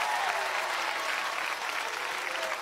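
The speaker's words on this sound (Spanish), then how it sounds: "aplauso para Juan" Studio audience of the Mexican game show 100 Mexicanos Dijeron applauding a contestant named Juan, a steady roar of many hands clapping, moderately distant and even throughout.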